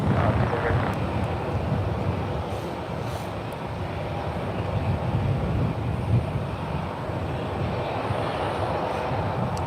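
Airliner taking off from runway 28 left at SFO, a steady broad jet engine roar that holds loud and even throughout, with no voices over it.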